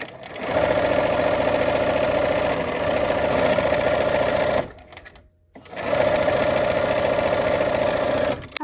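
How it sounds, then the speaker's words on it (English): A sewing machine stitches a quilt border in two long, steady runs of rapid mechanical chatter, close and loud, separated by a brief pause when the needle stops. "let's go sew"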